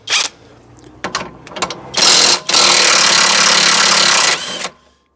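A 3/8 drive impact driver rattles loose a hub nut on a Fiat 500, opening with a few short bursts before one long, loud hammering run of about two and a half seconds, close up and without talk.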